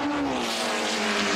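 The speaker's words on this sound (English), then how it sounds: "What a lovely sound from that Cosworth engine." A 1950s Formula 1 racing car's Cosworth engine roars loudly up close, its high-revving note sliding slightly in pitch over a brief moment.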